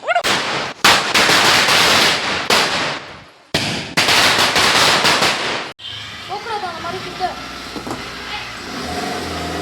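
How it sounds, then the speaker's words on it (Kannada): Chains of firecrackers go off at home during Diwali: two loud, dense bursts of rapid cracking and popping, then quieter background noise with voices. "ಪಟಾಕಿ ಸ್ಟಾರ್ಟ್ ಇವಾಗ"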